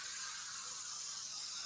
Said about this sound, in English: You're supposed to spray this 4 to 6 inches away.